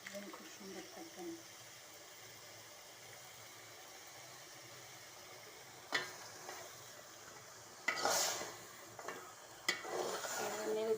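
Food is stirred in a pan at low volume, with faint sizzling and a few sharper scraping clatters in the second half. A soft voice is heard early on.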